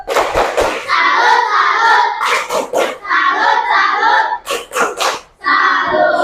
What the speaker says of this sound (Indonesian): Kasih tepuk salut buat Tata.